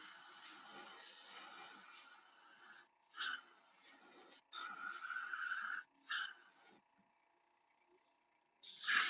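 An airbrush sprays base coat paint onto a fishing lure, giving close, steady hissing bursts of a few seconds each, separated by short gaps and one longer pause.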